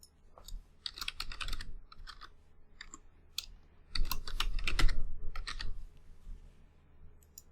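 Someone types a root password on a computer keyboard during a Linux install, bursts of quick key clicks with short pauses between them, close and fairly loud with no voices.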